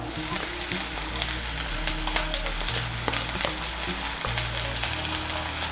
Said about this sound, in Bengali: রসুন বাটাটাকে মিশিয়ে নিয়ে একটু ভেজে নিয়েছি।